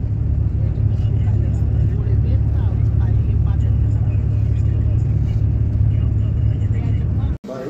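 Car driving on a road through thick fog on a journey from Karachi to Multan, a continuous low engine and road rumble held at steady loudness under people talking, cutting out abruptly near the end.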